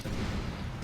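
A grenade goes off in the video game Medal of Honor Warfighter as a low, rumbling boom that stays loud and sustained through the short moment.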